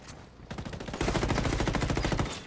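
Heavy automatic gunfire in Ghost Recon Wildlands, a loud, close, rapid stream of shots that intensifies after the first second and keeps hammering without pause.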